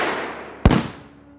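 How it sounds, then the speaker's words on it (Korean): A gunshot and an explosion crack out together as a single sharp blast over a steady hiss and rumble, then ring off and fade quickly. "총소리와 동시에 폭발음이 퍼져나갔고"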